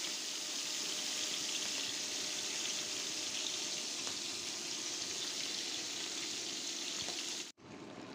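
Bata fish frying in a pan with potato and tomato nearby, a steady hiss of oil sizzling under everything, constant and fairly quiet, then a brief dip near the end before the sizzle resumes.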